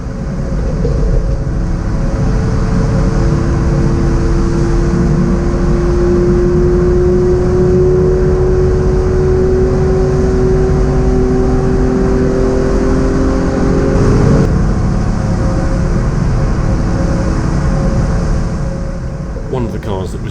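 A Citroen C1 on track at Mallory Park, its engine note steady and loud from inside the car with rising tones as it accelerates, heavy road and wind roar throughout.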